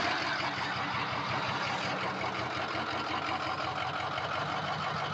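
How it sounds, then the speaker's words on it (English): An engine idles with a choppy, lopey exhaust just after a fresh start, a steady uneven rumble with rhythmic pulsing, fairly quiet and continuous with no talking. "And it does have choppy exhaust from the get-go."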